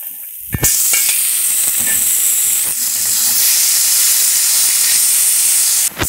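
Onion and mortadella fry loudly in a pan for a homemade farofa, a steady dense sizzle that bursts in abruptly after a brief quiet start and holds close and constant, with a few faint clinks.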